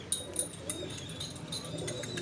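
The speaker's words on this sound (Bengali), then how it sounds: "আরও কিছু কবুতর আছে আমাদের কাছে" Soft, low pigeon cooing at close range, with a few sharp chirps from other birds overhead, fairly quiet overall.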